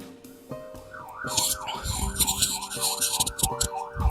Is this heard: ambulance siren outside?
yes